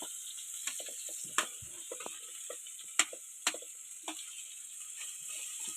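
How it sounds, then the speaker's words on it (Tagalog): Onion goes into a hot cooking pot for chicken sinigang, giving a soft, steady sizzle with scattered clicks and a few sharper ticks of stirring, fairly quiet and with no one talking. "unang ilalagay natin is ang sibuyas"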